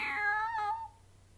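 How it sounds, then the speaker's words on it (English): A cat meows once, close and clear, with a rising then falling tone that trails off over quiet room hiss. "kitty cat time."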